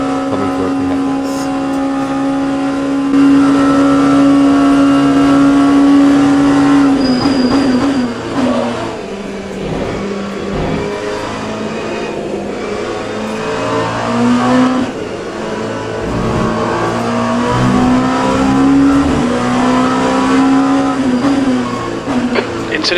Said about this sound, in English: I let you enjoy the game sound, the sound of the car